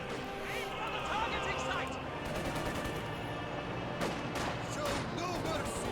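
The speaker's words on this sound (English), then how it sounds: "looks like he's barraging the base, maybe?" Distant artillery shells and scattered gunfire strike a base in the World War II strategy game Company of Heroes 2, a few sharp impacts rising over constant background battle noise while someone talks throughout.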